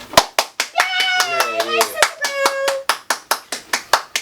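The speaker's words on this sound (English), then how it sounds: "shut the hell up with the clapping" Hands clap in a quick regular rhythm, loud and close, continuing throughout while a childlike voice vocalizes over them in the middle.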